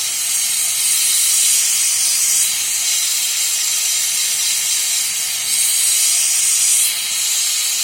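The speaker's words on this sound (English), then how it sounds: "I put the torch too far down into the bowl there, into the crucible." Steady, loud broadband hiss of a torch flame directed down into a crucible while melting metal for sand casting an owl pendant in Petrobond, continuous across the clip with slight surges and no talking.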